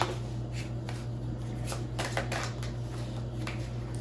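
Tarot cards being shuffled by hand nearby, a run of quick riffling flutters and soft slaps over a steady low hum, with no speech.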